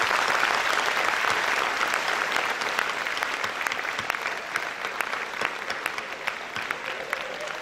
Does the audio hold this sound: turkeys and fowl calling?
no